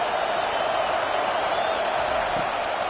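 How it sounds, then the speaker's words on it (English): A home crowd at a college football game between OSU and Auburn roars in a steady, continuous wash of cheering that fills the stadium without pause. "Man, this crowd really affecting the football game."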